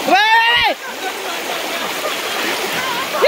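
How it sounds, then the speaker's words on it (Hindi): Floodwater rushes across a village road in Changori, a steady close wash of splashing water that fills the scene after a brief voice at the start. "ये पूरा रोड भर में पानी पानी हो गया।"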